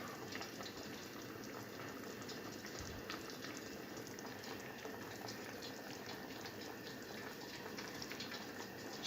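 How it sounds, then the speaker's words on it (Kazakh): Water simmers in a cooking pot on the stove, giving a faint, steady bubbling hiss that runs evenly throughout. "Кішкене қайнасын."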